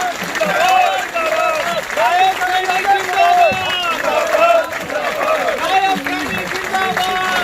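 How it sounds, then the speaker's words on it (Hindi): Sustained audience applause at a felicitation ceremony at Bhagwan Valmiki Ashram in Kurukshetra, a dense, steady wash of clapping from a large crowd that never lets up, with voices and cheering faintly mixed in. "लगातार तालियां बजती रहनी चाहिए।"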